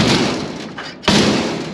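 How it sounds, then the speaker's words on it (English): Farm doors close near a barn during autumn clean-up work. There is a dull rumbling rush, then one heavy thud as a door shuts, followed by lingering noise. "Doors closing."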